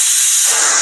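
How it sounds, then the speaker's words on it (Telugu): Steam hisses loud and steady from a pressure cooker venting while a banana flower curry cooks, a continuous broadband spray that holds for the whole moment with no talk over it. "చూడండి, కుక్కర్ కూడా ప్రెషర్ కుక్కర్ వచ్చేసింది."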